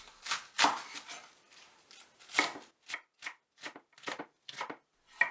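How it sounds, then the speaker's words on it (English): A kitchen knife chops onion and napa cabbage on a cutting board in a series of crisp, close strikes, a few clustered together and then separate regular chops, with no one speaking. "Cut in 2 pieces 1 onion, 200 grams of napa cabbage,"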